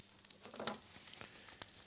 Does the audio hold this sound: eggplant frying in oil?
yes